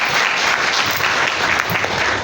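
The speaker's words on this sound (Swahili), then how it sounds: "Tumpige makofi." Dense, continuous applause from a crowd at a church gathering, loud and steady from start to finish with no pauses.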